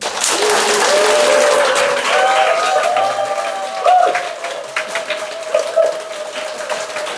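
A congregation at a Catholic Mass breaks into hearty applause during a humorous sermon, crowd voices and scattered cheers rising over the clapping before it thins out in uneven bursts.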